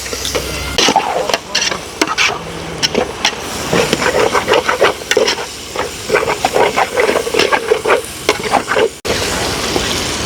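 Masala being stirred into chicken gravy in a pot, a steady run of scraping, clattering strokes over a constant sizzle and steam hiss, close and fairly loud with no talk.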